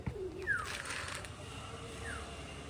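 High flying pigeons in West Bengal coo softly, with a few faint, brief calls over a quiet background.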